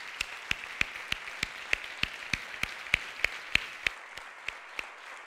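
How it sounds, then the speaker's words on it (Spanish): At a television series gala, applause honours a production team member. Only a sparse run of single, evenly spaced claps comes through, sharp and fairly quiet, steady for about four seconds before thinning out. "Un aplauso para ella, por favor."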